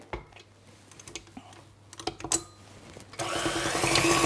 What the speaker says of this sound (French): mes blancs d'œufs dans la cuve du batteur, et on va les fouetter à vitesse modérée